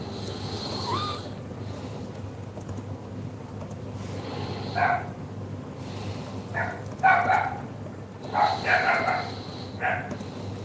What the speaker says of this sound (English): That dog outside is a manic.